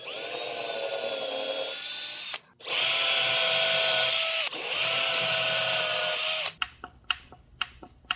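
Power drill boring mounting holes in a guitar body, three loud sustained whining runs with brief pauses between, ending in a few short clicks and taps.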